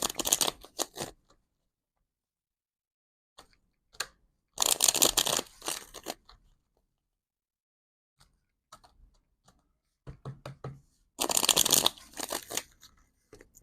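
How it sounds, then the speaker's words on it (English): Tarot cards being shuffled by hand come in three short bursts of riffling and flicking, close and crisp, separated by quiet pauses with a few light taps. "Just going to shuffle it 2 more times."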